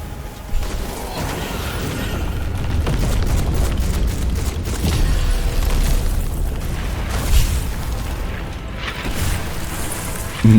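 A continuous rumble of booms and bursts from a shockwave blast in the dark fantasy shooter game Witchfire, dense and loud, with crackling impacts and no talking.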